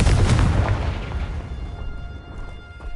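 Confringo fire-blast spell exploding in Hogwarts Legacy, a loud booming blast at the start that decays into a rumbling tail with a few smaller pops afterward.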